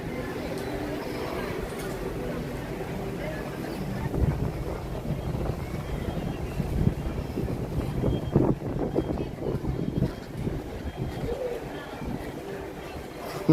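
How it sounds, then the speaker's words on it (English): Steady outdoor wind buffeting the microphone at a busy theme park, a low broadband rumble running through the whole stretch with people talking over it. "Windy."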